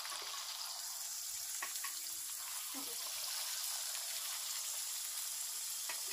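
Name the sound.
dough pieces for papri chaat frying in hot oil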